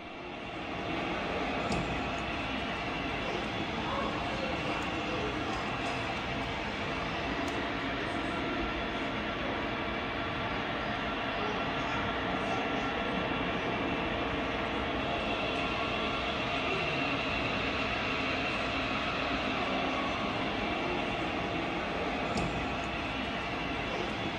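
A continuous rumbling roar of HO-scale model trains running on a large layout fills the whole stretch, steady and fairly loud with no talking.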